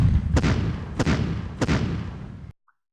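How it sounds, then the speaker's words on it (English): Three heavy booming blasts of artillery bombardment and dive bombing in Decisive Campaigns: Warsaw to Paris, evenly spaced over a low rumbling bed that cuts off abruptly into silence. "Let's bombard and dive bomb."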